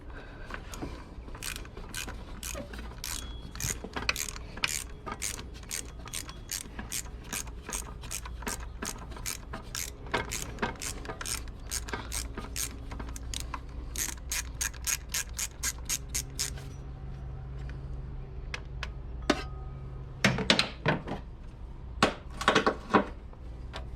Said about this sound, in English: right now we're working on getting this power steering pump off. I have the bolt almost all the way out for it.